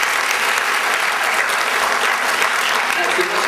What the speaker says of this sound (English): So a massive round of applause for the gentleman here.